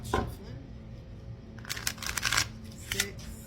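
A brief flurry of cards being shuffled, crisp riffling bursts near the end after a quiet stretch.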